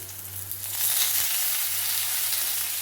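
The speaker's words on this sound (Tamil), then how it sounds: "வெங்காயத்தை இப்போ நல்லா வச்சுன்னா நம்ம அது கூடயே தூதுவளையும் போட்டு வதக்கி எடுத்துருவோம்" Chopped onions and thuthuvalai leaves sauté in a hot pan for a herbal rasam, giving a steady, close sizzle that swells slightly partway through, with no talking.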